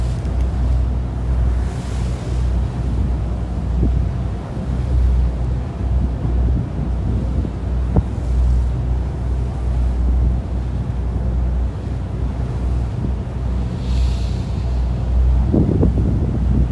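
Wind buffets a boat off Cape May, a steady, loud rumbling roar of wind against the microphone mixed with water and engine hum, with occasional brief knocks and no talking.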